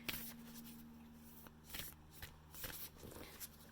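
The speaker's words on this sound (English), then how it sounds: "I'm shuffling right now." A deck of cards being shuffled close by, several quick riffling bursts and soft shuffling rustles in an uneven rhythm, fairly quiet with a faint steady hum behind them.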